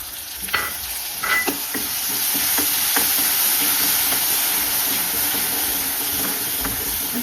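Chopped banana flower sizzles and hisses in hot tempering oil, a steady frying crackle with a few stirring clatters near the start, close and fairly loud.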